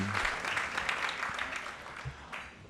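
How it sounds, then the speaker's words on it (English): Audience applause at the 2018 UCLA Institute of the Environment and Sustainability gala, a steady wash of clapping from a large crowd that swells briefly and then thins slightly, with no talk over it. "Give Bakari a round of applause"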